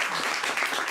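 Audience applause at a book presentation, dense steady clapping filling the whole short moment at a moderate level, with no voices over it.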